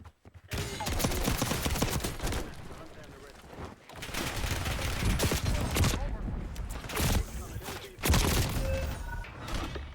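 In a Call of Duty Warzone match, an airstrike sends dense bursts of explosions and gunfire-like cracks in loud, sustained volleys with short gaps between them, and a voice talks over the barrage.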